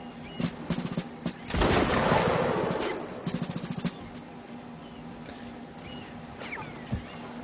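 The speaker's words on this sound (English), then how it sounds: "that cannon's firing grape shot, which is what all the high-pitched whistles going around me are" Cannon fire spraying grapeshot in a video game battle: sharp bursts and crackling volleys, then a dense roar of projectiles, followed by scattered pops and whizzing whistles at varying distances.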